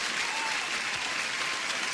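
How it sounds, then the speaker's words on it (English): Dense, steady applause from a live audience fills the whole two seconds, loud and continuous with no voices standing out. "Huge applause for Methodical Man."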